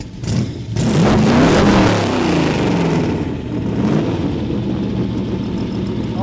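A 1963 Corvette Split Window Sting Ray V8 blipped up hard from idle, a loud, close burst of revving that settles back into a deep, rumbling idle, with no talking.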